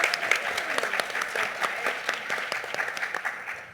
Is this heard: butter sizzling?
no